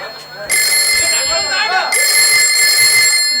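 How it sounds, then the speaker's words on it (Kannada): An electronic phone ringtone plays loud and steady, briefly broken off before resuming, while a voice speaks over it during a village stage comedy play. "ಅಂದ್ರೆ ಯಾವುದೋ ಫೋನ್ ಬತ್ತ"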